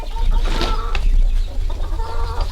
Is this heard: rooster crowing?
yes